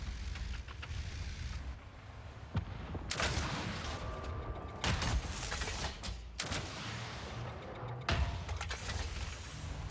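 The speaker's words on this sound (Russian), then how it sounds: "Стреляю по только что зареспившимся противникам" Tank cannon shots in World of Tanks, a Leopard 2FK firing repeatedly, each a sharp, loud blast followed by a rumbling decay, several spaced over a few seconds amid constant battlefield noise.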